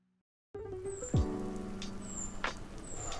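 Steady rain patters on a surface during a very rainy day hiking the Tour du Mont Blanc, a dense continuous hiss with a brief low rumble and a few louder drips, no voices.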